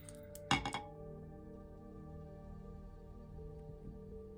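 Cinnamon drops into a glass of water, a quick bright clink and short rattle against the glass near the start, followed by a faint, quiet hum.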